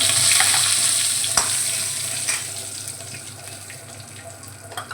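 Cumin seeds, cardamom pods and bay leaf hit hot oil for aloo dum, giving a steady, close, fairly loud sizzling hiss with a few soft clicks and stirring scrapes, no voices.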